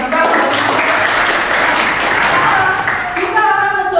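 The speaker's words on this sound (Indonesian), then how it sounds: "Berikan tepuk." Students in a classroom clap together, a steady dense patter of many hands held for a few seconds before tapering off, close and fairly loud.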